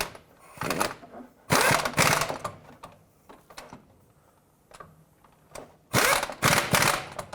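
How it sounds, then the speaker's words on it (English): Air impact gun tightening the front lower control arm bolts on a 2001-2007 Toyota Highlander, three loud rattling bursts of roughly a second each separated by quieter clicks and handling noise, close by. "so I'm just going to make them tight with my air gun"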